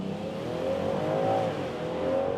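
A Land Rover Defender 90 P400 with a roof rack and box launches hard from a brake boost, its engine holding a loud, steady revving drone that climbs slightly in pitch, close and continuous with no talk.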